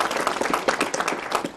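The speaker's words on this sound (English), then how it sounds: "let's give them a round of applause, please." A meeting audience gives a short, lively round of applause for drug and alcohol task force members, with scattered overlapping claps that stay fairly close and moderately loud.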